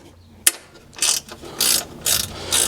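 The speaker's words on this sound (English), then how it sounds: "and then I'm gonna use a ratchet" Ratchet and socket clicking in short repeated bursts while loosening an exhaust guard bolt on a Honda Trail 125 motorcycle, preceded by a sharp metallic tap; close and fairly loud, no talk.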